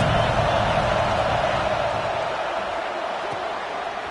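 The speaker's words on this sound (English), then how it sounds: "Big third down as the crowd gets behind this defense." A football stadium crowd roars steadily in a broad, sustained cheer for the defense, slowly fading a little over a few seconds, with a voice faintly mixed in.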